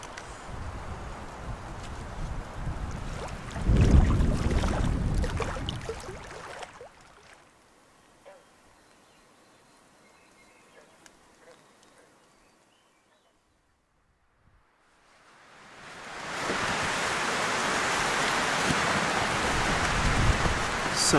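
Strong storm gusts sweep through the Wabakimi wilderness around a remote solo campsite, a loud broadband roar that swells, drops to a near-silent lull, then surges back and holds steady.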